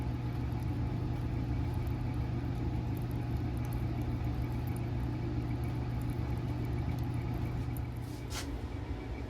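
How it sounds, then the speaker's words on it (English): A Hotblast wood furnace runs in a basement, blowing hot air with a constant low hum and steady airy rush that hardly changes throughout. "The Hotblast furnace is up and running. It's blowing good hot air into the basement."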